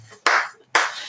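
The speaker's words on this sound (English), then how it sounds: "slow clap for Megan Easley" Two sharp, close hand claps about half a second apart make a deliberate slow clap, with each crack decaying quickly into quiet, in a comic shop's evening unboxing show.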